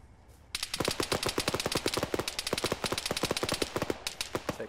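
Sustained automatic gunfire in Arma 3, a long steady stream of loud, evenly spaced rapid shots that begins abruptly after a quiet moment and continues for several seconds without pause.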